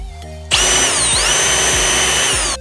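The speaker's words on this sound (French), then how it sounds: "nous venons d'apprendre comment percer le plus verticalement possible" A power drill bores straight down, starting abruptly after a quiet moment and running at a loud, steady high whine for about two seconds with a slight dip in pitch midway, then stopping.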